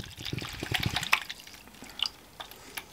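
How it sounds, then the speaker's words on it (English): Cold Blue gun bluing liquid pours into a plastic bowl, giving soft close splashes and drips that thin to a light trickle with a few scattered drops near the end. "I'm literally going to pour all this into a plastic bowl."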